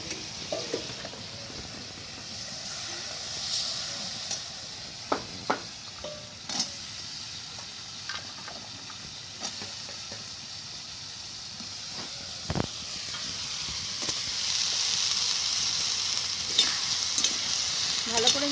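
River fish pieces fry in spice paste in a pan with a continuous hiss. Scattered scraping and knocking come from stirring, the sizzle grows louder and steamier in the later part, and nobody speaks.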